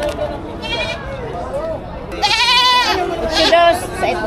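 Goats bleat at a livestock auction in Padre Garcia, Batangas, with several wavering cries rising and falling close by amid steady crowd chatter and someone talking.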